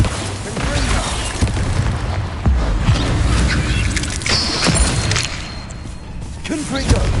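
Confringo and Bombarda spells explode in the Hogwarts Legacy video game, a steady run of booming thuds and crashes during a busy fight, with a voice shouting spell names over it.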